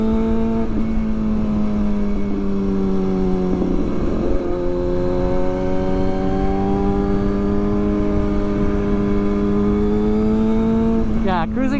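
Motorcycles cruise steadily along a back road on a weekend ride, a loud, close engine drone holding an even pitch throughout, with a brief dip and shift near the middle and a quick rev or pass at the very end.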